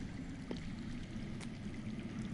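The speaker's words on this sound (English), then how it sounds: "That's water. I hear water. From underground." Underground water flows in the Game of Thrones video game, a steady low rushing and trickling murmur that stays constant and fairly faint throughout, with no talking.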